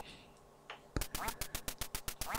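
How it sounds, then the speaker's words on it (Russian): Ducks in the NES game Duck Hunt, played on the 3Dsen emulator, quack in a rapid run of sharp, evenly spaced electronic quacks after a sudden loud hit, following a quiet start. "Но утки настолько быстро летают, что у меня с первого раза вообще не получилось попасть."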